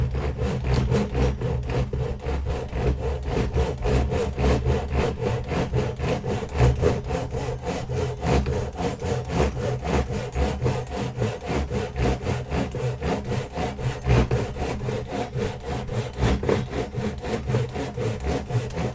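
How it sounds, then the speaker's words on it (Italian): A cheap Parkside Japanese ryoba pull saw cuts through a piece of wood in steady, fast back-and-forth strokes, each rasping pass loud and close, continuing evenly without talk. "proviamo a tagliare questo pezzo di legno"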